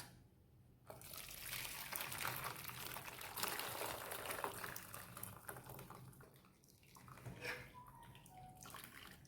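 Boiled grape juice being strained, a continuous close pour and splash of liquid running through for several seconds, then tapering off with a few light trickles and drips.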